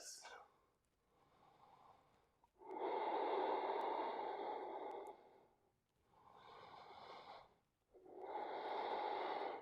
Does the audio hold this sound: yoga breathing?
yes